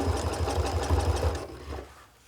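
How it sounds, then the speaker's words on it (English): Sewing machine top stitching a cat collar: a short, close burst of fast rhythmic needle whirring that slows and stops near the end, with no talk. "now you can top stitch this down"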